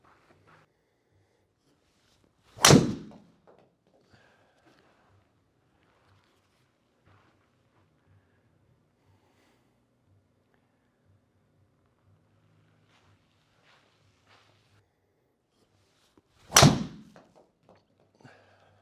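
A golf driver, tested with different weighting setups, strikes a ball in two sharp, loud impacts about fourteen seconds apart, close by and alone against near silence.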